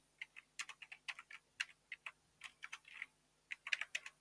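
Someone types text on a computer keyboard in quick, uneven bursts of crisp close key clicks with brief pauses between them, and no talking.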